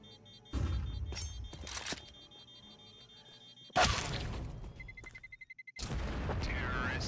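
Counter-Strike 2 incendiary grenade being thrown, with sharp whooshing bursts and a bright crash of breaking glass, followed by a rapid stuttering crackle and a sustained roar as the fire takes hold, loud and close.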